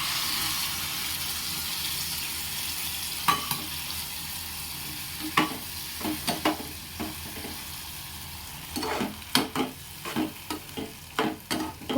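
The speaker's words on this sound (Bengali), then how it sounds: "এবারে বাদাম বাটা দিয়ে দেবো" Ground nut paste fries in a pan for a vegetarian dish, with a soft steady sizzle under repeated close stirring scrapes that quicken toward the end.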